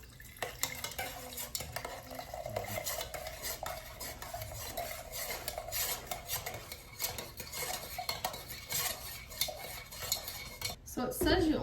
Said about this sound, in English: So I've pretty much done the 30-second stir.